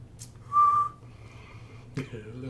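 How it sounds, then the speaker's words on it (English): A person gives one short, clear, steady whistle close to the microphone, lasting about half a second, followed by quiet room noise and a brief knock. "A little whistle for you guys."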